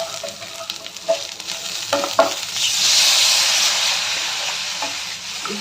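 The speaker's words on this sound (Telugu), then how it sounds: "కారం వేయగానే సాల్ట్ వేసేసి వాటర్ పోసేస్తాం" Water is poured into a hot pan holding chili powder and salt, with stirring scrapes at first, then a loud, sustained hissing sizzle that swells and holds close up.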